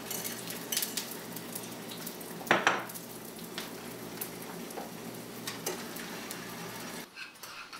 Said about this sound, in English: here the eggs are just cooking at a nice medium temperature